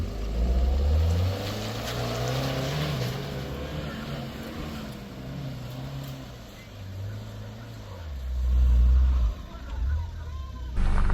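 A 1.4 turbocharged petrol Fiat Panda climbing a steep mountain road toward Colle Sommeiller, its engine droning and rising and falling in pitch through gear changes, swelling louder near the end.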